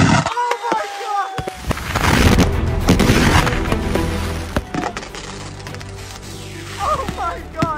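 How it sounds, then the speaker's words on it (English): Fireworks mortars exploding at a backyard fireworks show, with a burst of loud cracking, crackling blasts and booms, several sharp reports and a rolling rumble that fades, while people shout and talk excitedly over it. "So I'm glad we had a successful time with the mortars"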